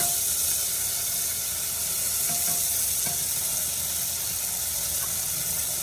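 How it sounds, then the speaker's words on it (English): Beans poured straight into a hot cooking pot, hissing in a steady, bright sizzle that stays loud and even throughout, with faint stirring knocks underneath. "Alright, so beans is next. Just directly in the pot."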